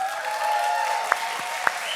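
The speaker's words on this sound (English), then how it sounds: "I want to give a little whoop, whoop and clap to a guy called Paul Lee." A church audience at a talk applauds for a youth pastor, a steady wash of clapping with a few sharp louder claps near the end.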